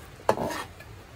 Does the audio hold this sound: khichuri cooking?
yes